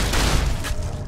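Grenade blast in Fallout New Vegas, a dense, loud rumbling burst that fills the clip, with a second crackling surge partway through and no talk over it.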